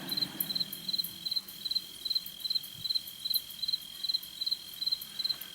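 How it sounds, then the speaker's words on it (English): Crickets chirping at night in steady, evenly spaced pulses, a continuous high trill running underneath, fairly close and alone with no voices. "The crickets add a nice little flavor here."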